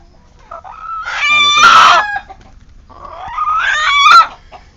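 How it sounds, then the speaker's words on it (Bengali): Two loud, near crows come from a Kadaknath rooster, each a strained, wavering call rising to a peak before cutting off. A short pause separates the two calls. "মোরগটা দেখুন"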